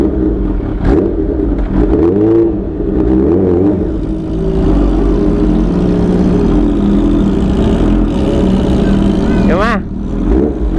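A Kawasaki ZX motorcycle engine drones steadily and loudly while riding, with rising and falling pitch as the throttle shifts, and someone talks over it throughout.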